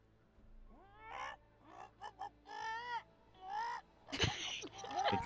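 A woman imitates bird calls up close, a string of squawky, crow-like caws and chirps with breathy gasps, followed by a louder burst near the end.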